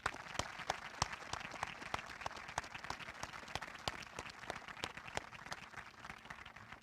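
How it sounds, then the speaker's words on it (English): An audience at a high school graduation ceremony applauding, a steady, even round of many hands clapping, heard from a distance and fairly faint throughout. "You want to give them a round of applause?"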